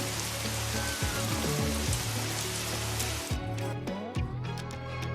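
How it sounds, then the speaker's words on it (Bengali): Steady rain pours down in a dense, even hiss over layered background music tones, continuous and fairly loud throughout with no pauses. "আষাঢ় মাসে বাদল নামে।"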